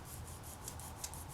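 A firm tissue blade sliding under a sheet with a slow sawing motion, giving a soft, steady rasping rub, faint and close with no talk.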